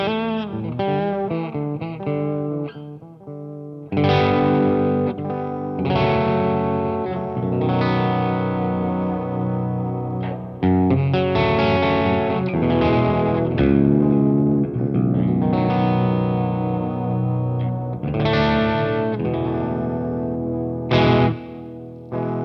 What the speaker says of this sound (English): the modulation adds in like a nice sort of tape warble sort of sound